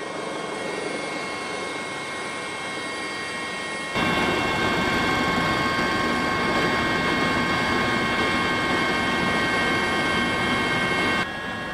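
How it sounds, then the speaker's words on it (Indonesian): A Dolphin AS365N3 Plus helicopter in flight, a steady droning engine and rotor noise that grows louder and nearer partway through, then holds constant to the end with no voices. "Setiawan dan Mayor Penerbang Antonius, helikopter jenis Dolphin AS365N3 Plus akhirnya mendarat kembali dengan selamat di Pangkalan Udara"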